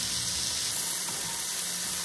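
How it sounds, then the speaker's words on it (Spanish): Seeds toasting in a pan over very low heat make a soft, even, close sizzle with faint crackling, steady throughout with no voices. "Esto se tienen que dorar a fuego muy bajito para que no se nos vayan a quemar"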